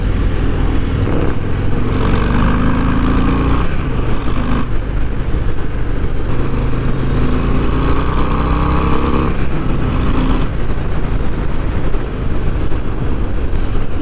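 A 2024 Harley-Davidson Breakout with the 117 engine being ridden, a loud, steady, close exhaust drone with low rumble and shifting pitch as it pulls and eases off, heavy wind noise throughout and no talk.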